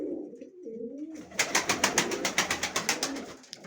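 Turkish breed pigeons sitting on eggs give a quick run of rhythmic, close cooing pulses after a few seconds of low murmuring.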